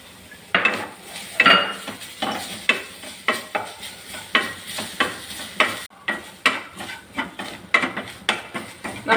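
A spoon scrapes and stirs grated coconut roasting in a pan, with repeated rhythmic strokes and a faint dry sizzle, loud and close with no talking.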